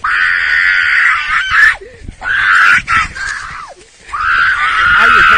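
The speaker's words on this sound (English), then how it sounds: "I was hoping that was the dude screaming like that." A man screams loudly in long, strained bursts, three drawn-out cries separated by brief breaks.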